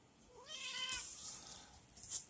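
A cat gives a soft, drawn-out meow at close range, quiet and breathy, followed by a faint higher squeak near the end.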